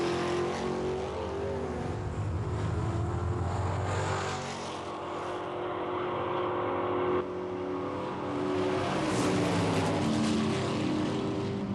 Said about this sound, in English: Mark Kristen's '63 Chevy Biscayne on the right against Bob Frazie's GTX.